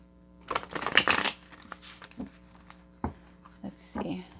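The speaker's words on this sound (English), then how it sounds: "One more shuffle." Playing cards are shuffled in a quick riffling burst, followed by a few soft taps and clicks as the deck is handled nearby.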